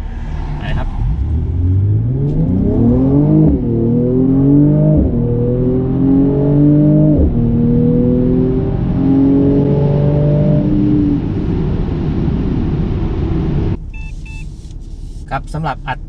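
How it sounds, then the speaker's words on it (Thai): Mercedes-AMG C43 Coupe engine in sport mode during a 0-100 km/h acceleration run, revving hard through several rising gear sweeps with brief dips at each shift, loud and close, settling to a steady cruise before a few beeps at the end. "เดี๋ยวเรามาลองอัตราเร่งกัน ในโหมดสปอร์ตนะครับ"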